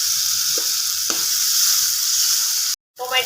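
Vegetables with soaked chana dal and spinach sautéing in a pan, with a steady loud sizzle and a couple of soft stirring knocks before a brief cut and a short burst of voice.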